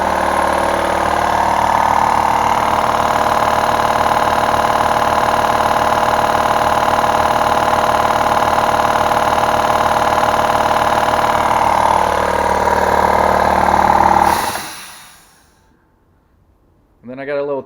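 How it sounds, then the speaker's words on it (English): A Sanborn air compressor runs loud and close with a steady, droning motor hum for about fourteen seconds, then shuts off and winds down into near silence before a brief sound at the end. "it'll give you a ballpark idea of how loud this compressor is"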